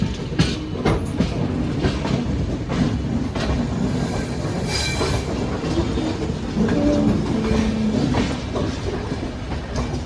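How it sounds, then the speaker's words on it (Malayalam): A Mumbai-bound local suburban train passes on the Konkan Railway during the monsoon, a loud, continuous rumble with rhythmic clickety-clack of wheels on rail joints and some metallic squeal, close by and without talk. "ഇതാണ് മുംബൈയിലേക്ക് പോണ ലോക്കൽ ട്രെയിൻ."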